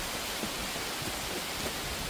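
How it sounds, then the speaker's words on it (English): Steady rain falls across the Ozark Mountains, a dense, even wash of patter that carries unbroken from start to finish with no voices over it. "It is raining."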